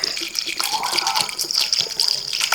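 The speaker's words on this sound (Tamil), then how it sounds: "இப்போ மாங்காயில் தண்ணி ஊற்றி வேக வச்சுக்கிறோம்." Water is poured from close by onto chopped raw mango in a pot before boiling for mango curry, a steady splashing gush that continues for a few seconds with no talking.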